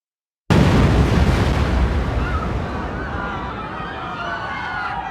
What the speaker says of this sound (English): 12 minutes later, the bomb went off.